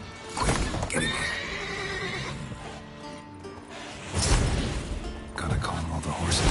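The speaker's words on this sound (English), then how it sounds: "Gotta calm all the horses before they wake the guards." Horses in The Witcher 3 video game whinny and neigh repeatedly at close range, with hooves clopping and shuffling between the calls, in loud bursts across the stretch.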